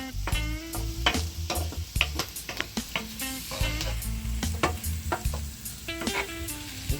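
Pre-cooked meatballs cooking in sauce and oil in a pan, a close, steady sizzle and bubble with frequent stirring knocks and scrapes throughout, no voices.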